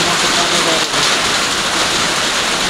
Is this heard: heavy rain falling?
yes